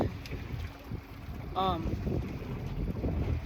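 Small outboard kicker motor on a walleye fishing boat droning steadily through big, rough waves, with heavy wind buffeting the microphone throughout and a brief harmonic whine midway.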